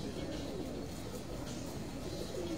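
Pigeons kept by fanciers in Lyari, Karachi coo softly, low murmuring calls half buried in constant background noise.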